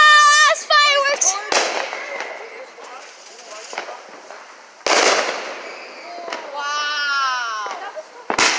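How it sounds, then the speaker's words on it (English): Fireworks burst close by with sharp, loud bangs at irregular intervals, trailed by crackling, while excited voices shout and call out between the explosions. "That's fireworks!"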